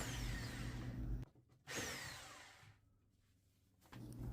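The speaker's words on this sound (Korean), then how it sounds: "드릴로 구멍을 뚫고 피스로 박아 가지고 고정을 단단히 해줬습니다" A power drill bores holes into a kitchen wall to anchor a sagging upper cabinet, running in two loud whirring bursts with a short stop between them and a quieter lull before it starts again.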